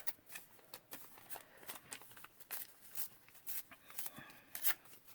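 Scissors trim scrap material in a quilting and craft session, giving a quiet run of crisp, irregular snips mixed with papery rustling and handling noise, with no voices.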